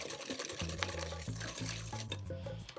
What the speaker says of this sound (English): Now we're just gonna whisk this together, break up the eggs